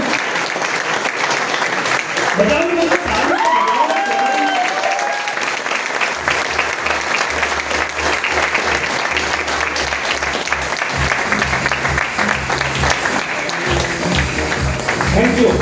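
A large hall audience gives loud, sustained applause as crown directors come up on stage, the clapping unbroken for many seconds with music and voices underneath.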